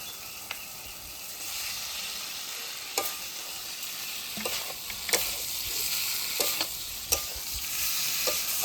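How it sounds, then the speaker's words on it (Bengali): Fried potatoes and pointed gourd go into a pan of cooked tomato and spices, with a steady close sizzle and several sharp scrapes and clinks of a spoon against the pan. "এখন আমি ভেজে রাখা আলু আর পটল দিয়ে দেবো।"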